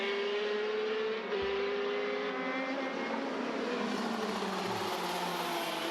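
Racing go-karts, including KZ class machines, buzzing around the track at a karting championship in Kandava, a loud continuous engine drone with shifting revving tones as karts pass nearby, no talking.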